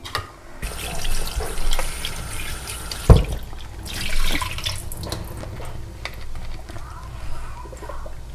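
Crab pieces rinsed under a running kitchen tap, with a steady stream of water splashing into a sink and brief clatters as the pieces are handled, and a voice talking over it.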